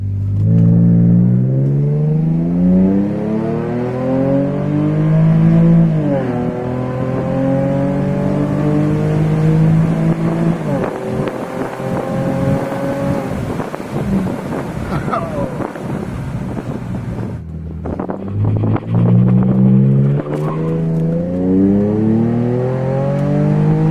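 A car engine revs repeatedly after its air intake has been cleaned, rising and falling in loud, sustained sweeps close to the microphone, with wind buffeting throughout and a brief dip near the end before it climbs again.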